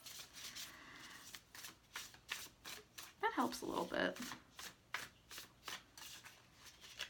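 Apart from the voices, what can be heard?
shuffling Light Seer's tarot cards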